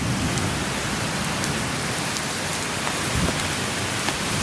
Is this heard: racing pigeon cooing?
no